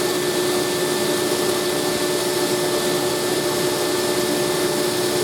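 Homemade all-electric fluid bed coffee roaster running, giving a steady, loud blower roar with a constant electrical hum throughout and no voices.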